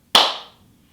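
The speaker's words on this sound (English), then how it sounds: "bringing them together with a clap" One crisp, close hand clap rings out during a qigong exercise routine, a single sharp smack that decays quickly into quiet.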